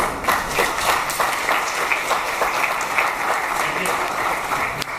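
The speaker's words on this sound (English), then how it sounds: "now you can applaud and ask questions and stuff" Loud, steady applause from a conference audience in Malta, with many hands clapping continuously in a dense crackle throughout.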